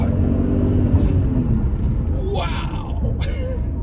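A 2003 Audi RS6 sedan with a 450 hp twin-turbo V8 accelerates hard, its engine giving a loud, continuous rumbling roar close by while a person exclaims over it.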